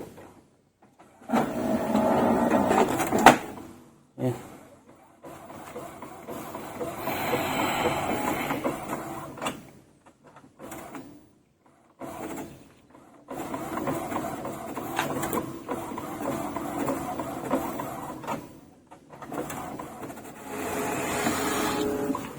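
An Epson L18050 inkjet printer, converted from dye to pigment ink, whirs and clatters in several bursts during a nozzle check, its carriage motor running with short pauses between passes.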